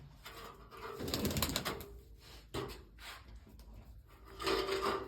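Pigeons coo in low, soft bursts amid fluttering and shuffling in their coop, with a louder flurry near the end.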